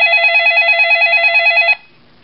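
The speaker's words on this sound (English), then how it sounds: "Then the phone rings again." A telephone rings with a loud, steady warbling electronic bell that runs for nearly two seconds, then cuts off abruptly, leaving near silence.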